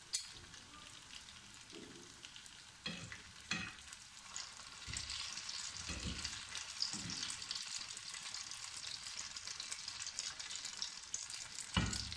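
Potato pops frying in oil make a dense, continuous crackling sizzle that swells louder after the first few seconds, with a few bumps from stirring and no talk.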